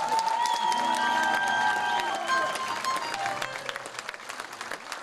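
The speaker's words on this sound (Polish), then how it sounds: "i raz jeszcze brawa" Concert audience applauds at a symphonic blues show, loud sustained clapping that gradually thins and fades, with faint tonal sounds lingering over it.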